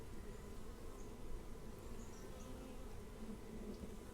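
Honeybees in a strong colony with brood on many frames buzz during a hive inspection, a dense, steady, close hum that fills the whole stretch with no speech over it.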